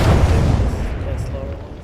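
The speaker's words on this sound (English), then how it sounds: "The enemies are shooting at me. I'm taking fire." Gunfire and explosive booms in a live-streamed shooter video game, a dense, continuous barrage of loud low rumbling shots and blasts that gradually eases, heard close and without speech.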